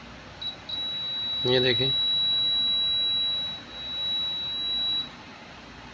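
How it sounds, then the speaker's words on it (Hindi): A new digital voltmeter's continuity-test buzzer gives a single steady high beep lasting several seconds, close and clear, while someone briefly speaks over it. "वहाँ से बज़र की आवाज़ आएगी, घंटी की आवाज़ आएगी।"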